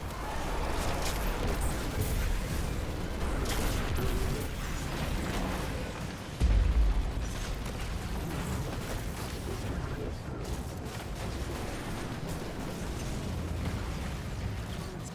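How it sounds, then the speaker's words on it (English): Continuous explosions rumble and pop through a Destiny raid boss fight, with one heavier thump midway. Game music plays underneath, and a voice talks over it at times. "A little hard to hear over the explosions"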